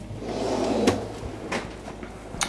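A kitchen drawer sliding open and shut, with a rolling scrape followed by a few sharp knocks and clunks, close and moderately loud, with no talk.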